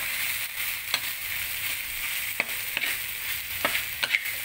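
Continuous crackling sizzle of chilli and onions frying in oil until crisp, with occasional sharp pops and utensil scrapes, close and fairly loud.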